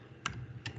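Two crisp keystrokes on a computer keyboard while typing code, close and quiet, spaced apart with soft room hiss between them.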